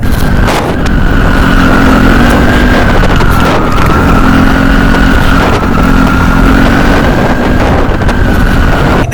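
A motorcycle climbing a steep hill road drones steadily and loudly at a strained pitch, with heavy wind rushing over the microphone throughout.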